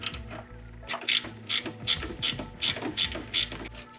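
A ratchet loosens the front strut nut on a 2006 Hyundai Tiburon during a strut replacement, giving close, rhythmic bursts of sharp metallic clicking, about ten quick strokes with short pauses between.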